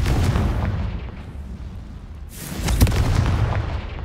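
A Confringo blasting spell goes off in Hogwarts Legacy, a loud booming explosion with a sharp burst near the middle that rumbles on before fading, with no talk over it.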